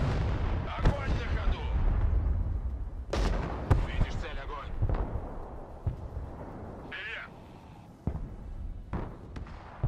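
Artillery in Broken Arrow booms in heavy, irregular blasts, deep rumbling impacts and sharper cracks spread across the stretch, with someone talking over the battle noise.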